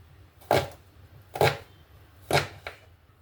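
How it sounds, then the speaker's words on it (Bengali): A knife chops a peeled onion finely on a board, four crisp, close strikes spaced unevenly over a quiet background. "এখানে পেঁয়াজটা একদম ছোট ছোট করে কাটার চেষ্টা করতে হবে"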